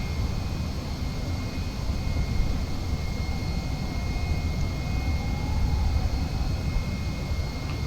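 Steady broadband drone of an airliner's engines inside Microsoft Flight Simulator 2020 during cruise flight, a continuous even roar with low rumble and faint high tones, no voices over it.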